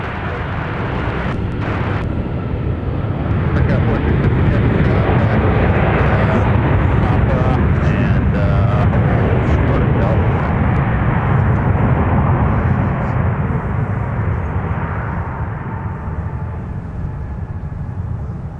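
Airliner at MSP airport, loud and steady broadband jet engine roar that swells and slowly fades, continuous throughout.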